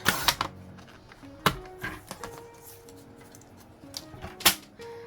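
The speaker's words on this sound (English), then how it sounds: "So I'm going to trim this up. And I'm just going to cut it at the 1-inch mark." Paper trimmer slicing through cardstock scrap strips for a handmade card: a few sharp, close clicks and snaps of the blade with quiet handling rustle between them, no talking.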